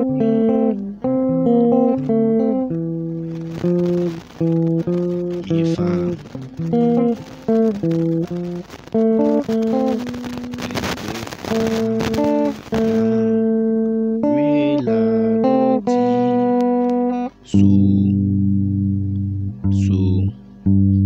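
A guitar is picked in the Ghanaian yaa aponsah highlife rhythm, with a steady repeating pattern of bright plucked notes, close and clear, played alone with a short strummed passage near the end.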